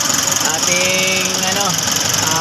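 A Nissan NV350 van engine idles steadily and close by after its throttle body and EGR valve were cleaned, a continuous even hum with a faint voice briefly over it.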